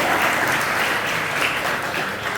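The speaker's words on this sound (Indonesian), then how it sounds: "Ayo kita beri tepuk tangan dulu, Mas." Vocational high school students at an anti-corruption outreach session clap together in a loud, dense, steady burst with no pauses.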